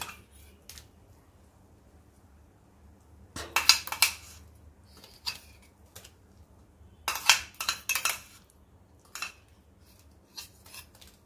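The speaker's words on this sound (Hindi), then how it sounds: "अब इसको अच्छे से हिला देंगे और अच्छे से इसको पकाएंगे" A spoon stirring fig kheer, thickened with fig paste and brought to a boil in a metal pot, gives scattered scraping and clinking strokes in short clusters, close and fairly quiet, with no talking.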